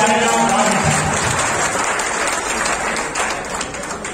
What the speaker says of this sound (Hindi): आपका समर्थन, आपकी तालियां